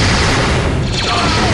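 Sniper fire in Star Wars Movie Duels 2 comes as loud, dense blasts with a sustained roar of gunfire that fills the short span at close range.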